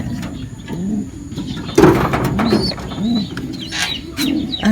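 Pigeons coo repeatedly in low, rolling phrases close by, several calls spaced through the clip with brief rustling and a few faint chirps in the background.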